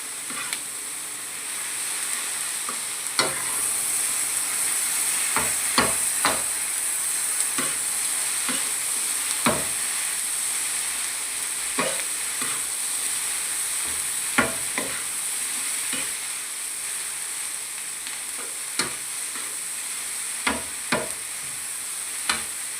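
Sauce and food are stirred together in a hot frying pan, giving a constant sizzle with repeated sharp scrapes and taps of a spoon against the pan at an uneven pace, with no talking.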